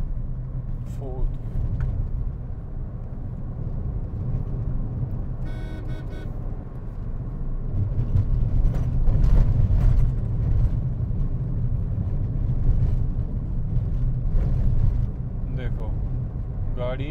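A Suzuki Ciaz sedan pulls in second gear up to about 3,500 RPM, its engine hum rising and swelling midway while someone talks steadily over it and a horn toots faintly nearby.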